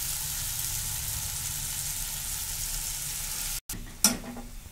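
Ginger garlic paste sizzles steadily in a pan, a constant frying hiss that briefly cuts out before minced mutton goes in and the sizzle flares up louder.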